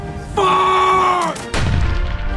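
Historic gun fired during a demonstration in Quebec City: a long, drawn-out shouted command, then a sudden loud, close blast with a heavy rumbling decay.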